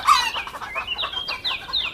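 Farm chickens cluck and squawk in a quick, uneven run of short calls, close and fairly loud, with no voices over them.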